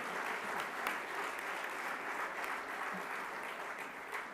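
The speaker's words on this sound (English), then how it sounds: "Let's give one more round of applause for Ambassador Andrew Young, a living legend." Dense applause from a large conference audience at an annual meeting plenary session, a continuous loud wash of many hands clapping at an even level throughout, with no talking.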